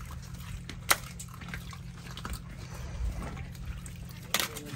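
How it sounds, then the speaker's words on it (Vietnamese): Fresh water drains steadily out of an aquaculture fish and shrimp pond, giving a soft continuous watery wash over a low hum with a few sharp clicks and no voices. "À, xả nước ngọt."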